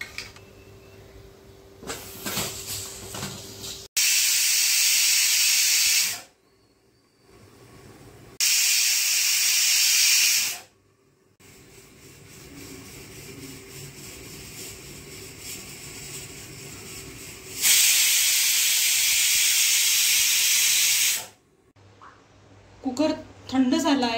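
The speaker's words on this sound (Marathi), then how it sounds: "कुकरला आपण 4 ते 5 शिट्टी मारून घेणार आहोत." A pressure cooker on the stove cooking wheat kheer lets out several long, loud whistling hisses of steam, each lasting a few seconds, separated by quieter gaps with low kitchen noise.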